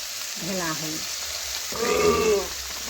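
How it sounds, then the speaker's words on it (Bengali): Tadka masala and mung dal are being stir-fried in a pan, giving a soft continuous sizzle with two short bursts of scraping and stirring over it. "এটাও ভালোভাবে নাড়াচাড়া করে আমি একটু কষে নিচ্ছি মশলার সাথে।"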